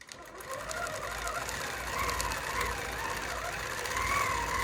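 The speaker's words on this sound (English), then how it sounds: "So my machine is set at 13 stitches per inch in precise regulated." A sewing machine stitching a quilt at a steady regulated speed of 13 stitches per inch, a continuous even mechanical whir with a faint rhythmic hum, heard close up with no talking.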